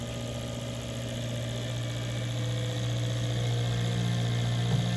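An ASNU flow bench fires four fuel injectors at 100 PSI and a 50% duty cycle. A steady, dense mechanical buzz and hum goes on without a break, and no one speaks.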